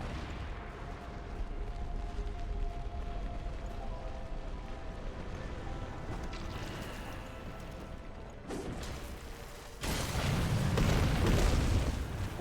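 Thrown bombs blow up in Darksiders II, a string of low, rumbling booms over mechanical game noise, with a heavier, louder blast near the end.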